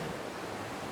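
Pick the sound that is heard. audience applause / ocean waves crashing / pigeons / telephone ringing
ocean waves crashing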